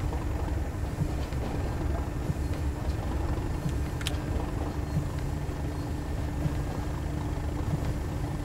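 Simulated train running on the Tees Valley Line in Train Sim World 2, a steady low rumble and engine drone with a faint tonal hum, continuous and unbroken with no voices.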